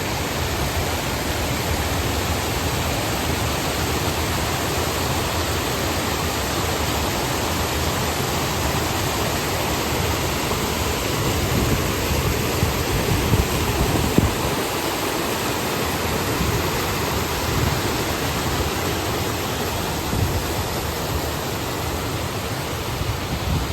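A waterfall spilling into a village pond makes a constant, loud broadband roar of rushing water that stays even from start to finish, with no voices over it.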